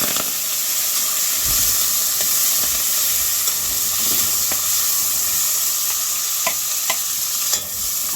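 Tomato, scallion, onion, garlic and Scotch bonnet pepper sizzling in very hot oil, a loud continuous hiss with scattered spatters and stirring scrapes, close up and without any talking.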